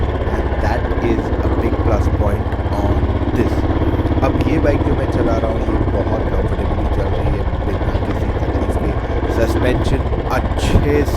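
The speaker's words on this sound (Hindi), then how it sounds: "अब ये बाइक जो मैं चला रहा हूँ" A motorcycle ridden over a rough, bad road gives a steady, close engine drone mixed with wind and road rumble that never lets up, with a rider's voice underneath.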